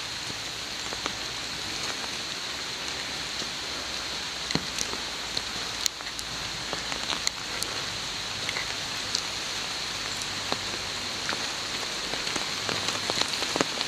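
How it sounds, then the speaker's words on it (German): Steady rain falls outdoors during a short walk with a dog, a dense, even hiss of drops with occasional sharper nearby taps, with no voices over it. "Regnet."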